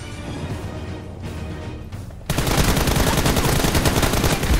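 Continuous gunfire in the Free Fire video game, where quieter game ambience suddenly gives way to a loud, rapid, sustained stream of shots that fires without pause to the end.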